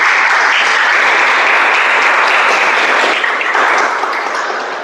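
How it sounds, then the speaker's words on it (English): An audience at a Toastmasters-style speech-a-thon meeting bursts into sustained, dense applause for the speaker, loud and continuous, tapering slightly at the end. "Can we have another round of applause for the speaker?"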